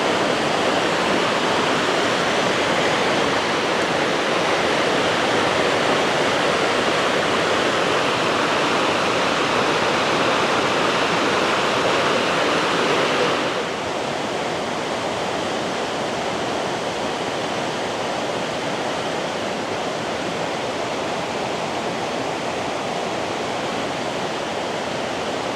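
Fierce, high-volume water pours over Pontneathvaughan waterfall in Wales, a loud, steady, close roar with no break, easing slightly in level about halfway through.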